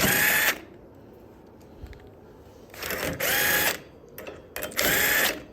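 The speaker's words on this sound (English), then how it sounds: "So let's go ahead and pop these lug nuts off." A power drill spins lug nuts off kart wheels in three loud, close bursts of whirring, with quiet pauses between each one.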